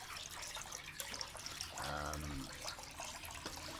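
Water pours into a bucket while salt water is mixed for a fish tank, a short close splashing gush amid faint trickling and dripping, no talk.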